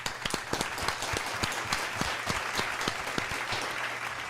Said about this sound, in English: Hand clap for my guy,